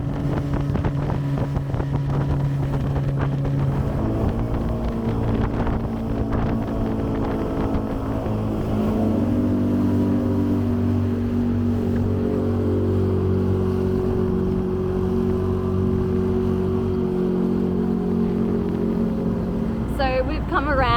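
A small homemade tinny motorboat engine drones steadily as the boat moves across water near Hinchinbrook Island, with wind buffeting the microphone and occasional voices underneath.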